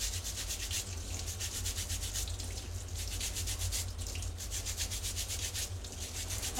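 Horseradish root from the garden being washed and rubbed, a steady close scrubbing and rushing water sound that continues without pause.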